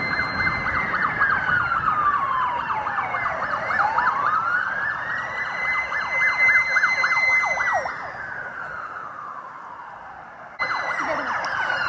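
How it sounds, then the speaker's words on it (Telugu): Fire engines race past on a Melbourne street, their sirens wailing in long rising and falling sweeps with overlapping tones. The sirens are loud and close, fade slightly, then a fresh siren blast cuts back in. "ఫైర్ ఇంజన్లు అన్నీ వెళ్తున్నాయి."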